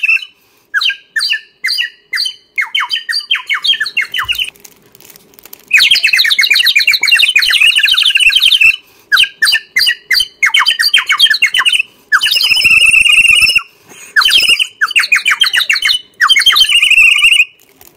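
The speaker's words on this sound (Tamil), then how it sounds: "ரியலாவே குருவி சத்தம் மாதிரியே இருக்கு, ஆனா உள்ள தண்ணி ஊத்துனாதான் அந்த சவுண்ட் கேட்கும்." A water-filled bird whistle toy gives shrill, warbling bird-like whistles that trill in loud bursts with short pauses, a bubbly chirping tone repeated over and over.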